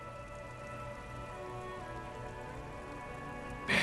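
Steady rain in the video game Disco Elysium, a constant dense patter filling the scene without pause, swelling suddenly louder near the end.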